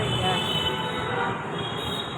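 Metro train at Thaltej station in Ahmedabad, a continuous loud rumbling rush with a high steady whine from the rails, heard up close with no clear voices.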